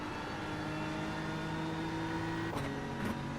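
A GT3 race car in the iRacing simulator drones steadily at constant engine pitch, then two quick gear shifts break the tone near the end.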